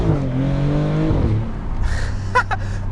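A 2026 Maserati GranTurismo Trofeo's engine drops in pitch and speed as it downshifts into first gear, then settles to a low rumble, with a few faint short clicks and a breath nearby.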